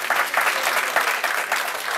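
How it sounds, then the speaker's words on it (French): An audience at a live concert claps in a dense, continuous burst of applause, steady and fairly close for the whole stretch. "Des applaudissements pour la dame."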